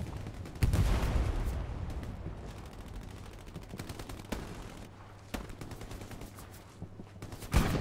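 Machine gun fire in the World War II shooter Hell Let Loose, loud rapid bursts up close at first, then scattered sharp shots and distant rattling for several seconds with no voices.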